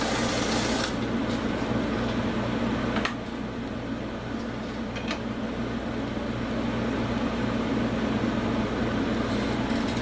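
A sewing machine runs steadily, stitching fabric for a doll's underwear in a home sewing setup, a continuous close motor whir with a brief dip partway through and no talk.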